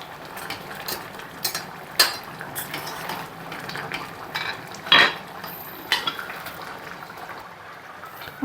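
A spoon scrapes and clinks against a pan while broad bean curry is stirred, with a few sharp metallic knocks over a soft bubbling simmer.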